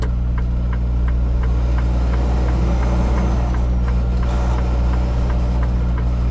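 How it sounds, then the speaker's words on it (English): A truck's steady engine rumble fills the inside of a cab on the road, loud and continuous with a faint rhythmic ticking throughout, and the passing or approaching vehicle is not clearly set apart. "There's another truck coming"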